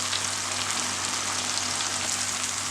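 Curry leaves crackle and sizzle in hot masala oil for a chicken keema upma, a dense, steady frying hiss that runs unbroken and fairly loud with no voices over it.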